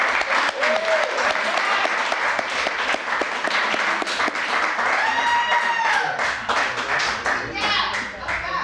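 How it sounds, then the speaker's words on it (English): Audience at a 1998 poetry reading claps for a poet, a loud sustained wash of applause with scattered whoops and cheers, voices calling out over it throughout. "let's give Katherine Parker a great round of applause"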